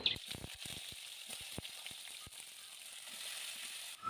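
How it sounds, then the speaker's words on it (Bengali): Eggplant pieces fry in hot oil with a steady, fairly quiet sizzle, broken by brief crackles and stirring clatters, with no talking. "তেলটা ভালো করে গরম করে নিয়েছি এবার এখানে বেগুনগুলো আমি নিয়ে নিলাম"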